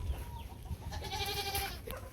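Goats bleat loudly and close by on a small snowy farm, several overlapping calls with harmonic wavering cries piling up in the middle of the stretch, over a steady outdoor background.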